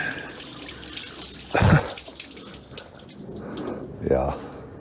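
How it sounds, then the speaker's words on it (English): Garden hose water gushing through the water jacket of a Mercedes W124 engine during a head gasket job, flushing out coolant on a driveway; two short loud splashing bursts over a steady background wash. "I'm just hosing it down."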